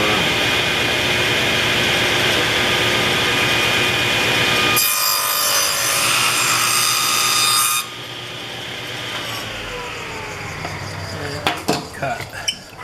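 A saw cutting a spline slot into a walnut tray held in a jig, a loud rasping whine that changes pitch midway, then drops to a quieter spin-down with a few clattering knocks at the end.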